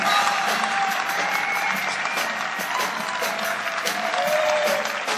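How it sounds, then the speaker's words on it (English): A live audience claps and cheers for a drummer being introduced at a performance night, a full, steady wash of applause holding at even volume throughout. "Give a round of applause for the best drummer in town."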